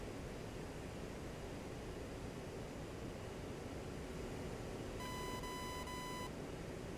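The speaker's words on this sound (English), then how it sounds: "I can hear my RWR beeping in me." A radar warning receiver in a DCS World fighter cockpit gives one steady electronic tone lasting about a second, faint over a constant hiss of cockpit noise.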